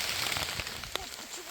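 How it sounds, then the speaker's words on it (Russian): Rain falls in a forest as a steady, close hiss of drops on leaves, with faint scattered patters over the brief stretch. "Такой вот дождь идет, правда."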